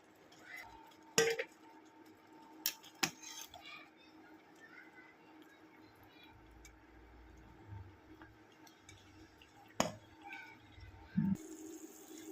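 Partly cooked rice for egg biryani is transferred into another vessel in a home kitchen, with sparse sharp metallic clinks and knocks of pots and utensils over a quiet background and soft low handling thumps.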